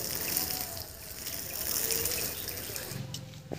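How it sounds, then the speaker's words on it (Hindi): Water gushes steadily onto soil in a home courtyard, watering the ground before onions are planted, a continuous close pouring wash with no talk over it. "यहाँ पे पानी देंगे पूरा,"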